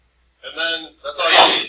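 A single close, loud sneeze, a sharp intake followed by a forceful burst, comes in a classroom between bits of talk.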